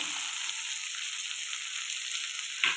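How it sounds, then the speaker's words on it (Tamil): Steady bright hiss of egg frying in hot oil, continuous and close, with a brief scrape or stir near the end. "இந்த எண்ணெயிலே இதை அழகாக பொறிச்சு எடுத்துக்கிட்டோம்"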